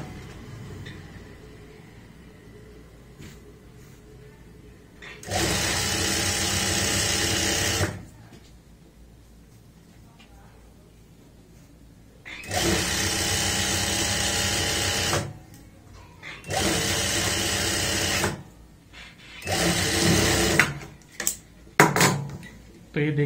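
A domestic sewing machine stitches a palazzo seam in short loud bursts of rapid whirring, several runs of a few seconds each separated by quiet pauses, with soft handling noises between them.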